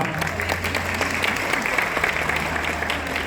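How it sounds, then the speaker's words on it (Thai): A wedding crowd applauds steadily throughout, dense clapping filling a hotel room with a low hum underneath. "ขอเสียงปรบมือดังอีกสักนั้งครับ"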